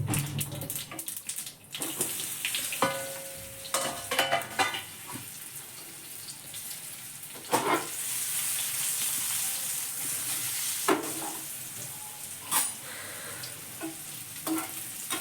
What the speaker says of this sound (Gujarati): અને હવે રાઈ ફૂટી જાય તો આપણે પાત્રા નાખી દઈએ